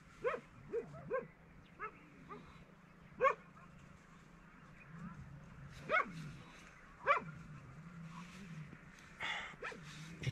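Village dogs bark in the early morning in Bir, a Tibetan settlement: scattered single barks and yips, some close and some farther off, arriving irregularly over a quiet background hum.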